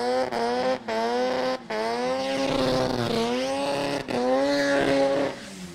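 A drag race car with a 13B rotary turbo engine accelerating hard at a no-prep drag event, loud close engine tone climbing in pitch through several sharp gear shifts, each marked by a brief drop before revving up again.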